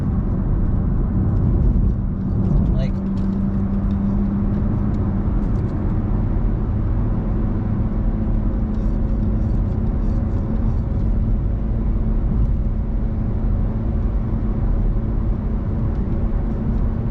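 A car engine fitted with a pedal spacer pulls uphill under light throttle, producing a steady low rumble and whir inside the cabin, constant and unbroken with no talk.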